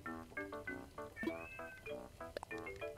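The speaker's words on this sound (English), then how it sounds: "Whoa, we got a noisy cat." Cartoonish villager cat chatter from Animal Crossing: New Horizons, a string of short, rapid, pitched meow-like syllables bursting in quick succession with no talk over it.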